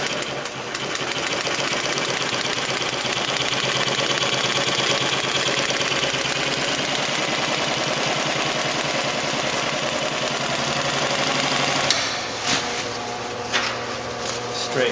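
A Singer 111-W153 walking foot sewing machine stitches heavy canopy fabric in a fast, even mechanical chatter that runs for about twelve seconds, then stops as cloth is shifted by hand.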